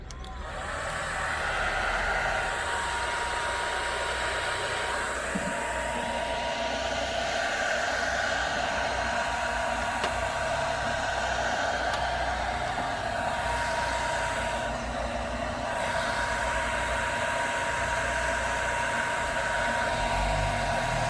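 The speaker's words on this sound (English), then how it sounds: "So let's get the hairdryer in there." A hairdryer blows steadily into a fogged BMW E31 headlight enclosure, a loud, constant airy roar running unbroken throughout with slight shifts in tone.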